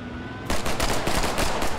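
Pistol gunfire in the Post Scriptum World War II shooter, with a Mauser in play, coming as a rapid string of loud, close shots after a brief quieter lead-in.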